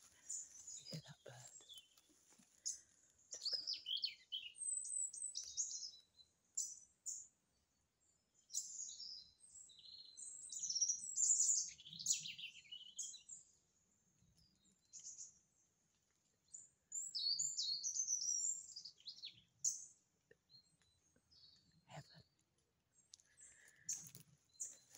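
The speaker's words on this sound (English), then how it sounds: "You hear that bird?" Small birds chirp and trill outdoors in repeated high, thin bursts of bright calls, fairly close. Quiet gaps separate the bursts and a few soft low thumps sit underneath.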